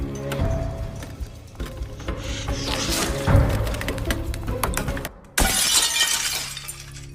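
Bedroom window glass broken with an electrified soldering iron, loud shattering crashes and tinkling shards in several bursts, ending with a sharp final smash.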